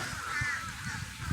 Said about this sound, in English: The crows are back.